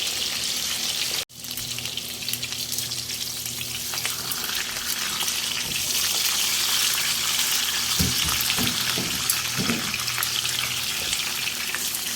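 Pork chops frying in a pan of hot oil, a steady loud sizzle with crackling pops and splatters throughout, a brief dropout near the start, no talking.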